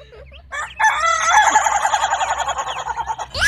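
A rooster gives one loud, close crow that rises and is held with a wavering, stuttering end, followed by a short trailing squawk.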